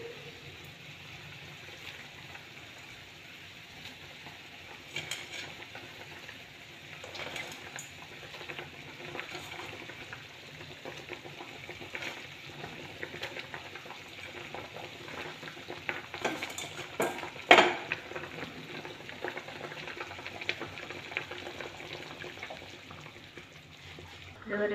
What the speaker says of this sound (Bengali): এবার বড়াগুলো একটা একটা করে ছেড়ে দেবো।